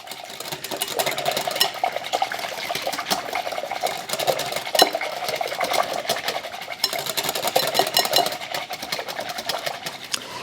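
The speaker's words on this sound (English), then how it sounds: "And I'm going to whip this together" A whisk beats buttermilk, egg and water together in a bowl, making a steady, rapid, close clatter that runs without a break for about ten seconds.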